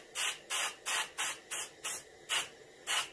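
An airbrush sprays paint onto a reproduction warmouth fish lure in eight short, even hissing bursts at a regular rhythm, close and fairly quiet.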